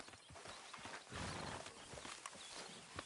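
Horse hooves clip-clopping in the Red Dead Redemption 2 video game, a quiet, steady run of hoofbeats on the ground with a soft, continuous background wash and no talking.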